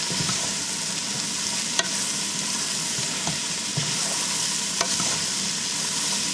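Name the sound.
vegetables and shrimp chop suey frying in pan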